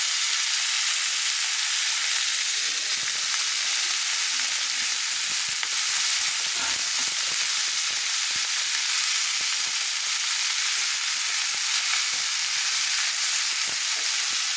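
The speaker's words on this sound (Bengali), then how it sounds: "এইভাবে আমি হালকা হালকা করে ভেজে নেব" Yardlong beans and winter vegetables fry in a pan for vegetable khichuri, giving a steady, close sizzle with a bright hiss throughout and faint scraping stirs.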